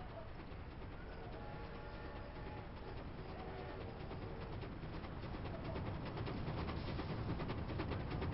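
A train rolls along steadily in the Command & Conquer Zero Hour video game, a continuous low rumble with faint clatter, heard alone at moderate distance.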